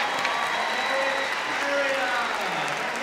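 At Crufts 2012 terrier group judging, a large indoor crowd claps and cheers, a continuous roar of applause that stays full throughout while a commentator talks over it.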